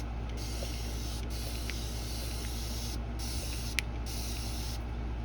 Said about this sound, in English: spray a little alcohol in here